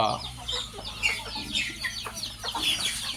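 Chickens cluck repeatedly close by in a flood-hit rural home, short sharp calls in a quick uneven rhythm, with a faint voice in the background.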